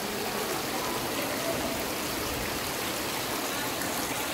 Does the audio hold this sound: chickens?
no